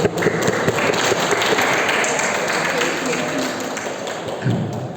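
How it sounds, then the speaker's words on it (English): Dense, steady applause from an audience at a school English storytelling performance session, filling the whole stretch at an even, fairly loud level with a faint voice mixed in. "Let's give applause once all for Mr. Syabil."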